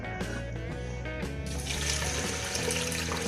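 About 1.5 kilograms of water pours steadily into a metal pressure cooker holding lentils, a loud continuous gushing and splashing that fills the whole moment with no voices.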